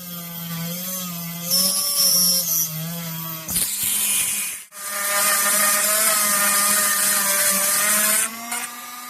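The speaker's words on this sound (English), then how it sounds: "I'm just using my Dremel tool with a router insert to drill out the holes." A high-pitched Dremel rotary tool with a router insert whines steadily as it drills out holes, its pitch dipping and rising as it bites into the material, with a brief pause midway.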